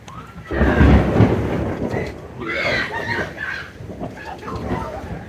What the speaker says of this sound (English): Thunder and the shrieking people who are staying at the resort